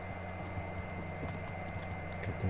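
Horse hooves galloping in the video game Kingdom Come: Deliverance, a rapid, steady clip-clop rhythm under a constant background hum, moderately loud and close, with no talking.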